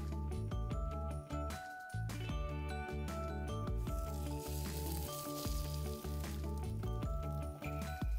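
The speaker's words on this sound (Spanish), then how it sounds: "ponemos un poco de aceite a la sartén y cuando esté caliente cocinamos el pan" Bread frying in hot oil in a pan gives a steady, loud sizzle and crackle that runs the whole time, with brief dips and surges in intensity.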